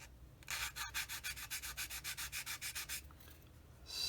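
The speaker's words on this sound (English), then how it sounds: "sand any burr off left from removing the sprue gate, like that" A 400-grit sanding stick rubs a plastic part of a 1/35 scale Jagdpanther tank model to remove a sprue-gate burr, making a close, steady rhythmic scraping of about fifteen even back-and-forth strokes.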